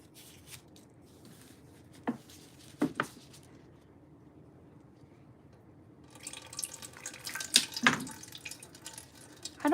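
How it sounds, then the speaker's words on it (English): Water poured onto a recently repotted potted plant runs straight through the soil, giving faint trickles and splashes in short bursts near the start and a longer, busier stretch of pouring and dripping toward the end, with no talk. "Like the water just goes straight through it."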